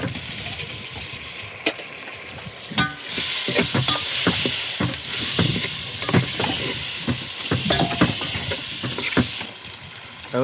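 Onions, tomatoes and chili fry in oil for biryani, a loud steady sizzle broken by frequent rhythmic scraping strokes of a stirring spoon against the pot.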